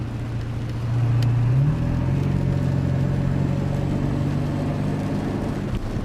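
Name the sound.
car exhaust and turbo spool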